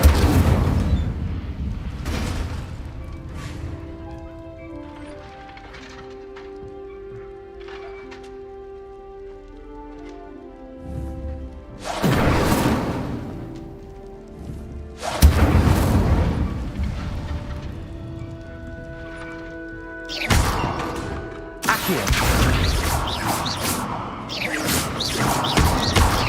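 Incendio fire spell blasts in the wizarding game Hogwarts Legacy, several loud booming bursts at irregular intervals over soft game music, some spaced apart and others clustered near the end.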